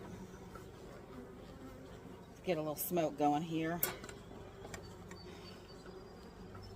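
A strong colony of honey bees in a hive's top box being split, a steady buzzing drone throughout, with someone talking briefly in the middle over the hum.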